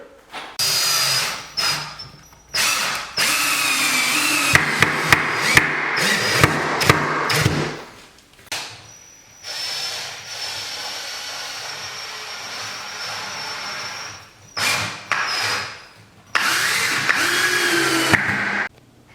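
A power drill drives screws into a mirror frame built from 1x4 lumber, running in repeated loud whirring bursts separated by short quiet pauses.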